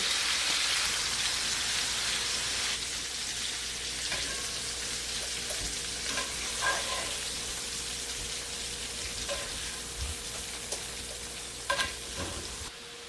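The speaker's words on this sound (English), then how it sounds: "we're going to saute these, soften them up a little bit" Fresh vegetables sauté in a skillet for an oxtail dish, with a steady close crackling sizzle throughout and occasional clinks and scrapes of stirring.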